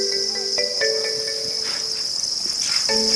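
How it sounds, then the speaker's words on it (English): Tens of thousands of crickets sing together in a steady, dense, high chirring. Louder individual trills rise and fade over the constant chorus. "They begin to sing a little bit now."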